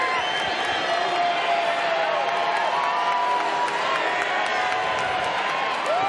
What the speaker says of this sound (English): The crowd is certainly weighing in on their opinions.